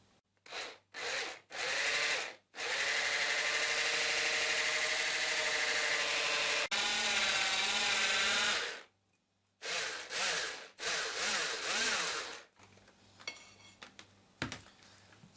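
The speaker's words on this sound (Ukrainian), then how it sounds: "беремо блендер, перемішуємо" A handheld blender whirs in several bursts mixing pizza dough batter, short pulses, then long continuous runs, its motor pitch shifting as it mixes, ending with a few clatters.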